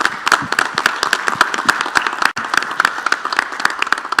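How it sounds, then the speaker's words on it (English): Audience applause after a closing announcement, steady, fairly close clapping with many distinct hand claps in an even patter, sustained throughout with a brief dip midway. "why don't we give Lisa a big round of applause for the work that she's done today"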